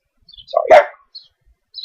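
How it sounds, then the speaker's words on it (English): A pet dog indoors lets out one close, loud bark, followed by a couple of faint distant chirps in an otherwise quiet room. "the dog"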